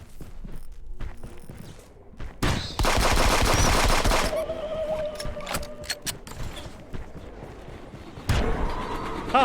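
Gunfire in the video game Fallout 76, firing rubber rounds: a dense burst of rapid shots for over a second, followed by scattered single reports and mechanical clatter, with another loud burst near the end.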